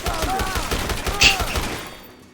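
Rapid machine gun fire from the Dead Rising remake video game, a dense burst of repeated shots that rattles for about two seconds, with faint voices underneath, then fades out.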